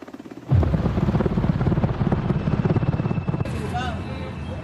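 A helicopter's rotor thumps loud and steady overhead during a federal agents' raid on an apartment complex, beating under a voice before a short whistling tone.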